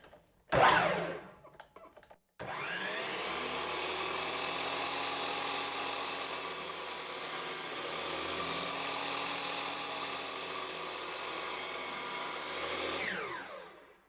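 A Hercules HE74 12-inch dual bevel sliding miter saw spins up with a loud close whine, then cuts through red oak in one sustained pass before winding down, after a few short clicks and bumps.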